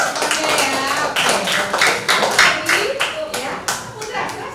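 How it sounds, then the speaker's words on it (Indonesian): Classroom clapping for a student rings out in a steady burst of many hands, close and fairly loud, with a bit of background chatter mixed in. "Oke, tepuk tangan buat Keisha."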